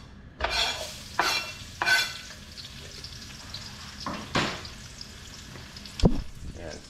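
Onions sauté in olive oil in a pan for ginisang monggo, with a low sizzle under several scraping stirs spaced a second or so apart, close by.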